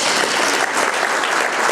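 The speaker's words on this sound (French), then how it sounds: "Je pense qu'on peut les applaudir." Loud, sustained applause from a conference room full of people, a thick continuous patter of clapping throughout.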